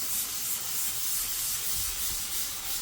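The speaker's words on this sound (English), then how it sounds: "it's not difficult to sand, not quite as bad as white primer" Epoxy coating on the sills of a Hillman Imp Mk 1 being sanded by hand, a steady close rasping rub with rhythmic back-and-forth strokes and no talking.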